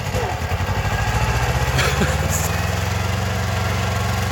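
A small engine runs hard at full throttle, blowing black smoke, on a garden cultivator weeding potato rows, with a steady, loud, pulsing drone throughout and a faint voice in the background.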